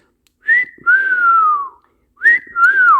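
Whistled imitation of a crying bird: two drawn-out, falling whistle calls, each starting with a short higher note, loud and close.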